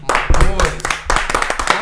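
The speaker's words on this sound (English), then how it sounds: "Let's clap it up." A few people clap on a podcast recording, close and loud, in uneven bursts mixed with overlapping voices and laughter.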